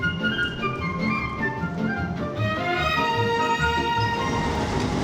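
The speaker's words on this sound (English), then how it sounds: "This set, still with its big headlight, has just arrived from Taita and is entering the cleaning yard" An electric multiple-unit train set, arrived from Taita, rolls into a cleaning yard with low rumbling wheels and a high tonal motor or brake whine that bends in pitch across the pass.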